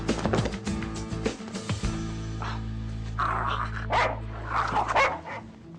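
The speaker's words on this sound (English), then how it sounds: "Is this your dog?" A dog gives a few sharp barks and yips up close, followed by softer whimpering sounds, with brief bits of background voice.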